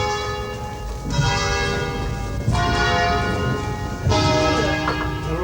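The five bells of a parish church in Lallio, near Bergamo, ring out in overlapping peals, with fresh strikes landing every couple of seconds over a resonant, sustained hum, loud and alone.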